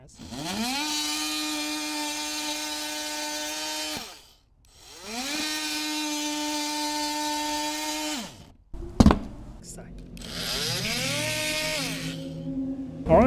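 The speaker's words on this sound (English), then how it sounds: "now we have a drywall cutout. A very simple work. Alright, I mean using your drill tool." A RYOBI power drill tool cuts out drywall, running in steady whining bursts with a pitch that rises on spin-up, two long runs of about four seconds each, then a clatter and a shorter final run, close by with no voices.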